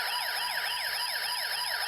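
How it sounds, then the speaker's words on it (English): A toy electronic circuit-kit police siren wails in rapid, repeating up-and-down sweeps, loud and steady with a thin, synthetic tone. "The police car siren sounds and the LED flickers."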